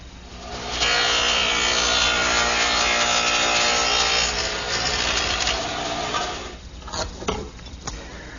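Dado head cutter set to a 3/8 inch width cutting dados across wooden shelf parts for a Delft rack, a loud sustained whine that runs for several seconds, then winds down with a few bumps and knocks near the end.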